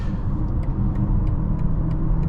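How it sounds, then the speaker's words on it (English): Steady low rumble of road noise inside a moving 2024 BMW X6 40i SUV, continuous and even, with no voices. "road noise seems to be very minimal"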